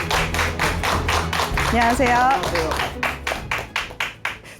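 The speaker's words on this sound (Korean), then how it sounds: "큰 박수로 맞아주시기 바랍니다." A studio audience claps in welcome for a guest on a Korean lecture talk show. The applause is steady and close, a voice greets briefly partway through, and the clapping thins to a few separate claps at the end.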